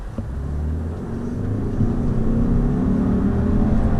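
A 2019 Subaru Ascent with a 277 lb-ft turbocharged engine pulls away from a stop, a steady engine drone and low road rumble swelling slightly as it accelerates, heard from inside the cabin with no talk.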